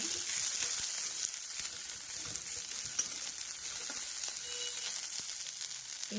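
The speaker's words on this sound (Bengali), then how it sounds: "ফোড়ন দিয়েছি, দিয়ে আমি কাঁচা লঙ্কাটা ঢেলে দিচ্ছি" Green chillies sizzle steadily in hot oil with a whole-spice tempering, a continuous close, even frying hiss with faint stirring clicks and no voices.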